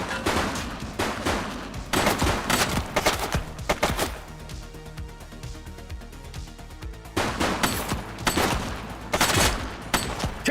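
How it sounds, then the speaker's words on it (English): Rapid bursts of gunfire from a suspect during a police shootout in The Precinct, loud clustered volleys in several waves with a brief lull in the middle. "She's shooting!"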